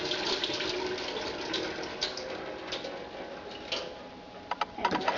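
Water drains and splashes from washed lentils for moong dal in a kitchen sink, a steady close trickle with a few small clinks near the end.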